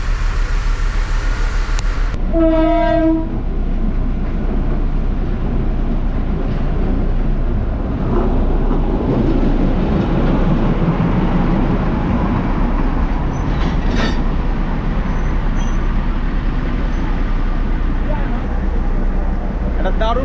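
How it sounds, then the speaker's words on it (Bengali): Darjeeling toy train running along its mountain line: a short tonal horn blast near the start, then a loud continuous rumble and clatter of wheels on rails, with voices talking faintly underneath. "দারুণ জায়গা যেখানে দুটো টয় ট্রেন পাশাপাশি"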